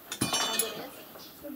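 Small spoons clink together quietly in a home, a few light metallic taps near the start with soft background sound afterward.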